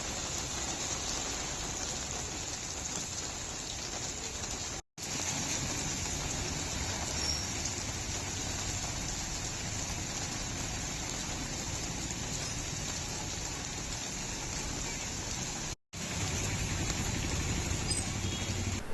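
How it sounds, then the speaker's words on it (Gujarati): Heavy afternoon rain pours down over Bhavnagar city, a steady, dense hiss of falling water that holds at an even level, broken only by two brief dropouts. "આજે બપોરના સમયે જોરદાર વરસાદ પડ્યો હતો"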